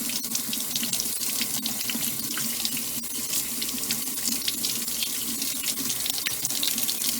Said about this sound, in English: Cold water over the outside surface of it.